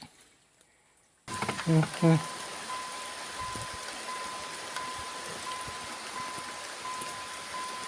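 Steady rain patters outdoors, a continuous soft hiss with a faint tone running through it, after a few sharp knocks near the start.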